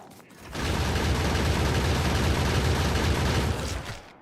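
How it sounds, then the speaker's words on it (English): Gunfire cutting down a medium biter in Factorio, delivered as one dense, sustained burst of rapid shots lasting about three seconds, loud and continuous before it stops abruptly. "this was like seconds of gunfire"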